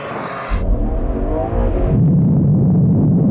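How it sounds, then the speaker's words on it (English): Four performance cars, an Audi RS3, Porsche 718 Boxster GTS, BMW M2 and Mercedes-AMG A45S, launch together in a drag race, engines surging into a loud, close rumbling roar that builds and holds steady. "That RS3 launched really hard when he did it, but that Porsche is ahead."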